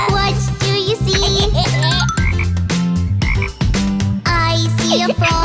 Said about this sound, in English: I see a frog. Ribbit, ribbit, ribbit.